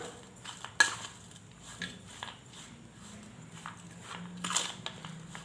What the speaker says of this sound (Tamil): நான் கொஞ்சமாக சேர்க்குறேன் அவ்வளோதாங்க நல்லா கலந்து விட்டுற வேண்டியது தான்